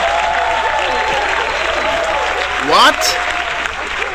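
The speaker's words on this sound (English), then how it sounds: "I can't believe you're cheering." A stand-up comedy audience bursts into loud, sustained applause mixed with cheering, while a voice speaks briefly over the crowd noise.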